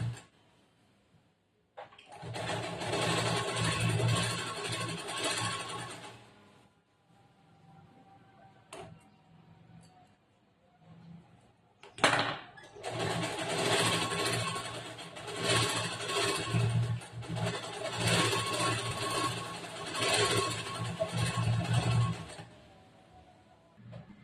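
A sewing machine stitches a lined blouse with a back-neck design in two long, steady whirring runs, with a quiet pause and a few clicks between them.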